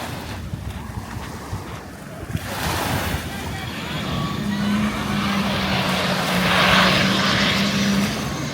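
A Bamboo Airlines airliner comes in low to land on Con Dao island, its engine drone swelling steadily louder over crashing ocean surf and wind, with a sustained low hum building toward the end.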